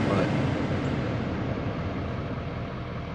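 An L5P Duramax diesel pickup engine idles just after start-up, a steady loud broadband rumble heard close and alone throughout.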